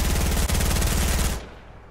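Rapid automatic gunfire in a building-and-shooting video game, a steady loud burst that stops abruptly near the end with no talk over it.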